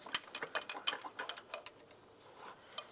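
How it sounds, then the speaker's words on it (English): A 13mm ratcheting wrench loosens a stud underneath a 1999-2005 Volkswagen Jetta, giving quick, faint clicking ratchet strokes in an irregular burst that thins out toward the end, with no talking. "I'm going to use a 13mm wrench. Loosen up the stud underneath here."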